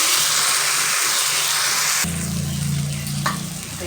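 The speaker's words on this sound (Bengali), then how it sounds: "এবারে আমি এর মধ্যে দিয়ে দিচ্ছি জল।" Water poured into a hot pan of egg omelette curry masala, the loud frying sizzle abruptly changing at about two seconds into a bubbling, hissing simmer, close and with no talk.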